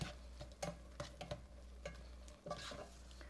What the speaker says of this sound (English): I'm gonna just stir that. Oh, they're sauteing nicely here.